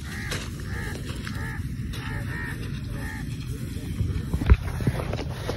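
Teal ducks call during a duck hunt, giving repeated short honking quacks in a rhythmic series over steady outdoor background noise. A sharp knock sounds near the end.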